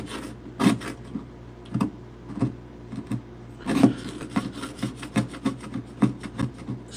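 A hand scraper drags over vinyl plank flooring in a series of short, rasping strokes, repeated in an uneven rhythm at close range with no talk.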